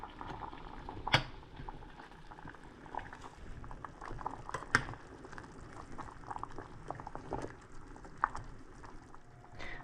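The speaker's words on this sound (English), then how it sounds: "we're going to slowly simmer this" Pieces of Buddha's hand citron simmer in sugar syrup, a faint, close bubbling with scattered soft pops and occasional sharper plops, steady and quiet with no talk.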